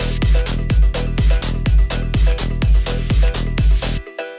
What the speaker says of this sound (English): we have a bit of echo, just dotted eighth notes, pretty simple